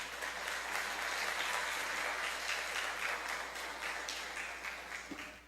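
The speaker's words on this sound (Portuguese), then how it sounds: "Dê um aplauso ao Senhor por isso." A church congregation applauds during a sermon, a dense, even wash of many hands clapping together, sustained and somewhat distant, with no speech over it.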